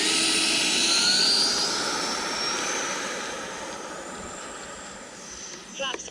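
Jet aircraft engine in a flight video game powering up with afterburner for takeoff, a loud roaring whine with rising pitched tones that slowly fades, ending with a few clicks.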